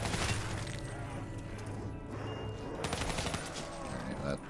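Submachine gun fire from Call of Duty Zombies on the Revelations map, with sustained rapid bursts and clattering effects running throughout alongside other game sounds, mixed with a quiet talking voice.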